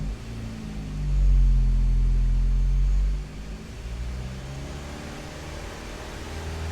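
A 2005 Vauxhall Astra G with the 1.6 Twin Port engine, suffering low power and fault codes, idles and then revs once with a swelling low roar for about two seconds before settling back to a steady idle.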